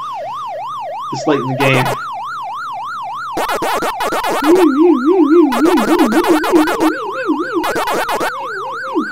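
Electronic warbling siren from the Pac-Man 25th Anniversary Edition arcade game, a rapid rising-and-falling tone looping continuously, with bursts of game effects and a player talking over it.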